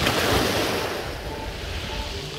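Sea waves wash onto Pitsunda beach in Abkhazia, a steady broadband surf roar with some wind buffeting the microphone, fairly loud and close, with no voices over it.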